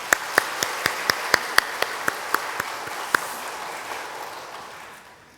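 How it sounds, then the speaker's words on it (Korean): Church congregation at a Sunday worship service gives a round of thanks applause: a dozen or so distinct, evenly spaced claps stand out over a softer wash of scattered clapping that fades away toward the end. "우리 감사의 박수 한번 하겠습니다."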